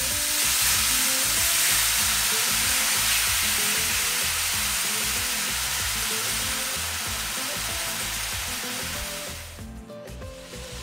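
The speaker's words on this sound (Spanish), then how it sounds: "que ya esté hirviendo el vino ahí" Wine boils and sizzles steadily in a pan while stuffed chicken cooks, a dense continuous frying hiss with faint stirring clatter, easing slightly near the end.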